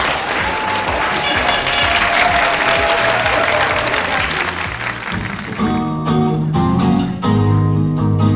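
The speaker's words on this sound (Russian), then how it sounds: "Ваши аплодисменты." A crowd at a children's karaoke gala concert claps loudly and steadily for a young singer, a dense wash of applause that gives way near the end to music.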